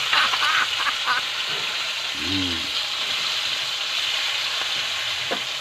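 Garlic frying in hot oil in a pan, a steady broadband sizzle throughout with faint utensil stirring and brief scraps of speech.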